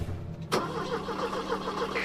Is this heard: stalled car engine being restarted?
yes